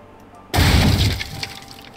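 Glass work shatters in the Uncharted Waters Origin video game, a sudden loud crash followed by a ringing spill of fragments that slowly fades after a quiet start.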